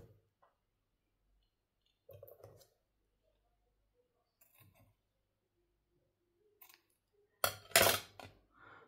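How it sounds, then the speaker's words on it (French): Scissors snip through craft material for a box, with a few quiet, sparse clicks and cuts separated by silence, then two louder, close cutting strokes near the end. "Alors, je vais couper."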